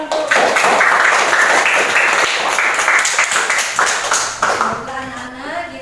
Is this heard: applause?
yes